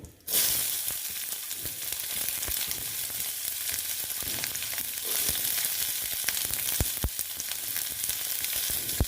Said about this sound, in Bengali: পেঁয়াজটা দিয়ে একটু ভেজে ভেজে দিচ্ছি